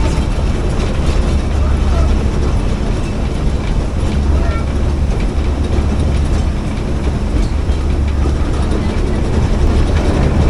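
A narrow gauge hill railway train climbs from Neral to Matheran hugging the hillside, a constant close rumble and rattle of wagons with a faint clickety-clack.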